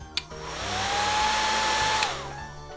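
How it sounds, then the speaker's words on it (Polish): A hair dryer switches on with a click and runs with a steady high-pitched whine and airy blowing for about two seconds, then clicks off and winds down, heard close and alone. "suszarka."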